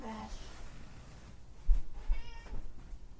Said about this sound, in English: I gotta let my cat out or else he's gonna...